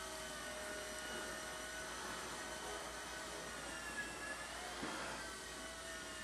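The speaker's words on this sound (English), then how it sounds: "So here's the little Blade 90 helicopter." A Blade 90 micro RC collective-pitch helicopter flies indoors with a steady, whirring rotor and motor whine that holds at an even level throughout.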